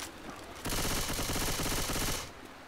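Rapid weapon fire in the video game Left 4 Dead, a dense, loud burst of repeated shots lasting under two seconds before cutting off, with no talk over it.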